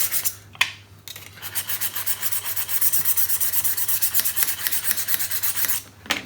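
A tool blade is stroked back and forth across a 320 grit diamond sharpening plate, giving close, rhythmic rasping scrapes in quick steady succession with no voices.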